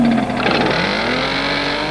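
An RC touring car zipping around a track, a loud buzzing electric whine that rises and sweeps in pitch as it accelerates through a slide, heard close with no talk.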